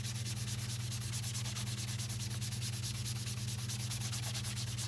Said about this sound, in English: And I'm gonna scrub the snot out of them.